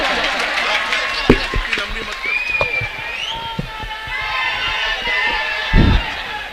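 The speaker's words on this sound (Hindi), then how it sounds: "जोरदार तालियों से स्वागत किया जाए।" Crowd at a political rally applauding and cheering to welcome a speaker, a loud mass of claps and shouts with bursts of whistling and a few sharp bangs, voices rising through the noise.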